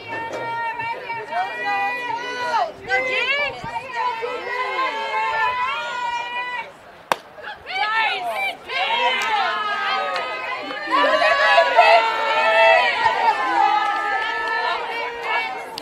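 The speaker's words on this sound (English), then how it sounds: "Crowd a little restless." Restless crowd chatter rises in the stands at a high school softball game, a steady babble of many voices near and far with a brief sharp knock midway and louder swelling talk toward the end.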